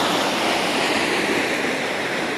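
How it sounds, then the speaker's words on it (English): Runoff water on Gold Creek in downtown Juneau rushes steadily in the fall, a loud, continuous broadband roar of flowing water with no voices. "So this is basically just a runoff. And here it is,"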